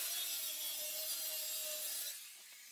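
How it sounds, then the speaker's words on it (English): A hand saw rasps steadily through a sheet of plywood clamped under a level, continuous close-up strokes for about two seconds before the cut eases off. "So, I'm cutting a small piece off right here."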